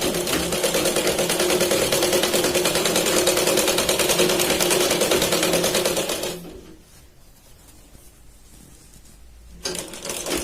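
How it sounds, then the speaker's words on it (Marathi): Sewing machine running steadily at speed while double-stitching a katori blouse, a dense rapid rattle that cuts out for about three seconds and then starts up again. "इथून आपण आतून हिला डबल शिलाई लावत दुसऱ्या पार्ट पर्यंत शिलाई लावणार आहोत"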